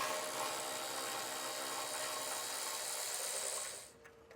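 Power tool or ratchet driving out 13mm bolts that hold a heat shield to a pickup truck frame, a steady close whirring drone running continuously for nearly four seconds before cutting off abruptly.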